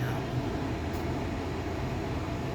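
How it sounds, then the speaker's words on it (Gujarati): Ahmedabad metro train runs along the track, a steady low rumble and whirring drone heard from inside, constant and moderately loud with no distinct voices over it. "Ahmedabad metro train"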